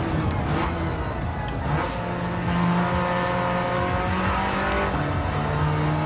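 Road car engine in Gran Turismo 7 on PS5 held at high revs close to the over-rev limit, a steady loud drone with sustained tonal harmonics and some tire squeal, continuous for several seconds with no talk.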